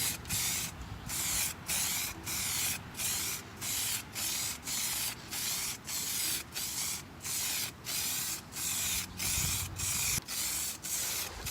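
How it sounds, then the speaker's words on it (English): Clear coat touch-up paint sprayed from a can in short, loud, even hissing bursts, a dozen or more in a steady rhythm with brief gaps, and no one talking. "So this is with the clear coat sprayed on."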